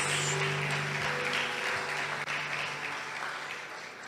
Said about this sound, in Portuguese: Uma linda salva de palmas para Jesus